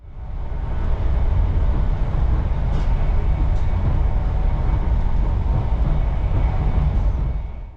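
CrossCountry Mark III train coach at speed: a loud, continuous rumbling rail roar with rattles and a couple of brief high squeaks, steady from start to end with no voices.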